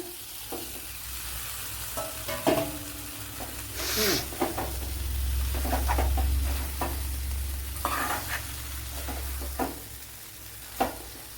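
Gooseberries tipped into a hot pan for Kerala-style pickle, a steady close sizzle and fry hiss swelling as they land, with stirring scrapes and clinks throughout.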